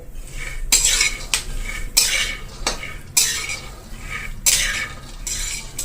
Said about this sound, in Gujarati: જો આ રીતના દાણા શેકાવા દેશો એટલે આપણી ચીક્કી એકદમ ક્રિસ્પી થશે